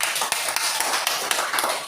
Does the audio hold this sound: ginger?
no